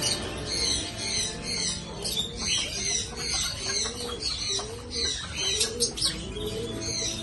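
Pigeons coo repeatedly in a bird enclosure at Souq Al Wakrah, the old market in Doha, Qatar, with chirps and squawks from other caged birds mixed in close by.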